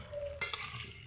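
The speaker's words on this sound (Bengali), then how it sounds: "এরকম করে আলুটা ভেজে নেব।" Potato pieces fry in a wok, with a soft low sizzle broken by two quick scraping stirs near the middle of a very short, quiet moment.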